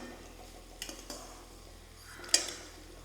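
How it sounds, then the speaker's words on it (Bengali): Fried matar dal fritters made with sesame and coconut are set on a plate, giving a few faint, sharp clicks and taps in an otherwise quiet kitchen. "দেখো প্লেটের মধ্যে কিন্তু আওয়াজ হচ্ছে।"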